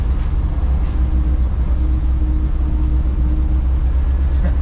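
A 1959 Volkswagen single cab bus drives along, its engine a steady, loud low rumble with rattling underneath, close and continuous.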